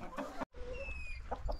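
A few short, soft clucks from nearby chickens, separated by a moment of silence, with faint bird chirps in the background.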